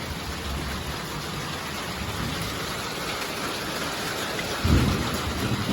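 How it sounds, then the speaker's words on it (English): Steady heavy rain with very large drops pours down during a lightning storm while a low rumble of thunder rolls through near the end. "We're getting these really big drops of rain and lightning."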